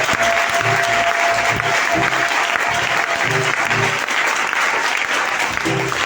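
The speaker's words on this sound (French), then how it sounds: "Est-ce qu'on peut donner une forte acclamation ce matin?" A church congregation at a Sunday service bursts into loud, sustained applause and cheering, with a low rhythmic thumping and occasional voices underneath throughout.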